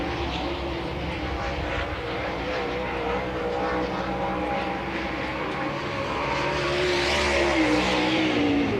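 A dirt late model race car roars past during qualifying at Georgetown Speedway in a World of Outlaws Late Model Series event, a loud continuous engine drone swelling near the end as it crosses the line.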